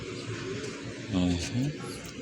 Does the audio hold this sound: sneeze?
no